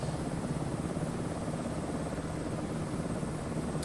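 Helicopter rotor and turbine drone from Microsoft Flight Simulator 2024 over Tasmania, a steady, continuous buzzing hum held at an even level throughout with no talk.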